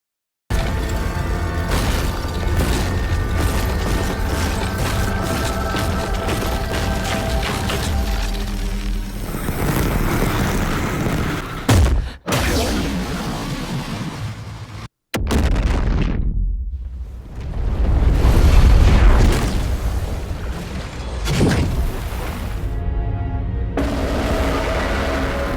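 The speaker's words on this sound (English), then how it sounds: "Well, a nuclear explosion." Nuclear explosion in the film Godzilla Minus One, a loud sustained roaring blast with booming rumbles, a sharp cut midway, then a renewed swell of deep rumble and debris-like crackle.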